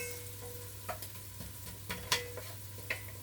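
Garlic and onions frying in a pan for collard greens, stirred with a wooden spoon: a low steady sizzle with occasional scraping and clacking strokes of the spoon, fairly quiet and close.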